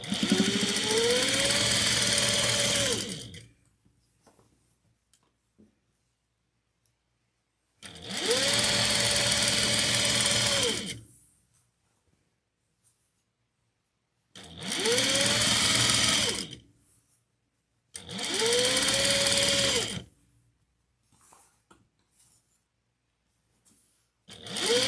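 A sewing machine stitches a cotton pillowcase in four separate steady runs of fast needle whirring, each a few seconds long and separated by near-silent pauses, close and alone with no talk.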